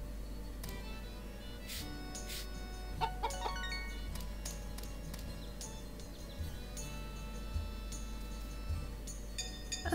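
Chicken named Buttercup clucking in the farming game Story of Seasons: Pioneers of Olive Town, soft repeated clucks and clinks over steady background music and ambience.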